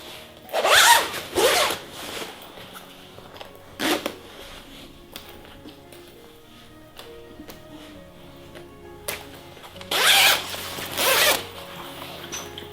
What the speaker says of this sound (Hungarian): átfordítva cipzározzuk be a kabát elejébe